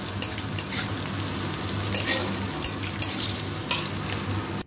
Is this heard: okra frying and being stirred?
yes